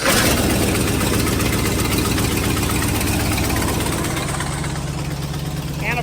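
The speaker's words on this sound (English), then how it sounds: "I did add oil to this motor, and it should fire quite nice." An irrigation well motor with freshly added oil, running at a pivot in the field: a loud, steady low engine drone with a regular chugging pulse, continuous and close throughout, with no talk.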